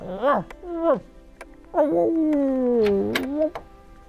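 A human voice imitates a cat meowing in a spoken children's story: two short rising meows, then a long drawn-out meow, spoken close and clear.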